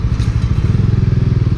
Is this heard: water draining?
no